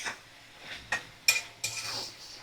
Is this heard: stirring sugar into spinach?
yes